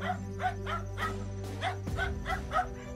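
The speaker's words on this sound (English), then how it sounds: "The crawling entity even spooked the neighbor's dog, which came to investigate, but was clearly scared out of its mind and could barely bark." A frightened neighbor's dog gives a rapid series of short, strained barks and yips, about eight in three seconds, close and fairly loud over a steady low hum.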